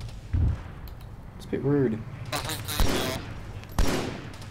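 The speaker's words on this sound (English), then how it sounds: "Who's that guy shooting at us?" Gunfire in the video game Arma 3: a few sharp, loud shots scattered across several seconds, some near, mixed with players talking over voice chat.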